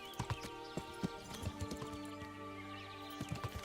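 Horse hooves clip-clop over ground in the medieval video game Kingdom Come Deliverance, an uneven run of close, moderately loud hoofbeats with a brief whinny mixed in.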